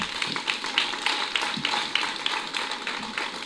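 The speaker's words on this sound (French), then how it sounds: "Applaudissez, s'il vous plaît." Audience applause at a New Year's greetings event in Porto-Novo, Benin: steady, moderately loud clapping from a crowd that runs continuously through the whole stretch.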